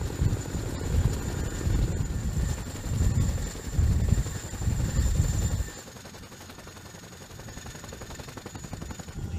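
World's biggest helicopter with tandem dual main rotors, a loud rhythmic thudding of blades that fades to a softer, quicker chop partway through.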